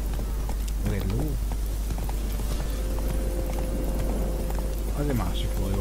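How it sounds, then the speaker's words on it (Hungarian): Horse hooves clip-clop in the Witcher 3 video game, a steady trotting rhythm heard against a continuous low background ambience, with game voices and music partly overlapping. "Egy ló?"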